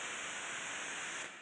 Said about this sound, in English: It's white noise. It's such a chaotic ringing.